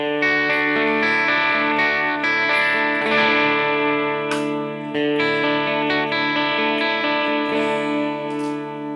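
A sustained, distorted electric guitar chord rings out loud and bright through a Line 6 HX Stomp amp modeler with treble and presence raised, with a few restrummed chords over about nine seconds.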